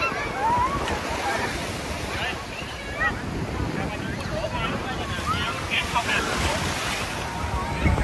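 Sea waves wash steadily onto a crowded beach at Vung Tau, a continuous loud surf roar with wind buffeting the microphone throughout and no clear pauses.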